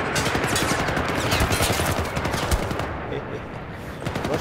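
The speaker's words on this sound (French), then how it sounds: "ça tire, ça tire" Rapid automatic gunfire rattles continuously in the video game Syndicate, dense bursts of shots that ease slightly toward the end.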